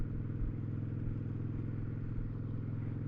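Motorcycle engine running steadily during a relaxed ride, a low rumbling drone at moderate level with no talk over it.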